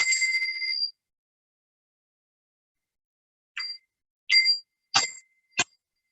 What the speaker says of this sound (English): here's a set of little chimes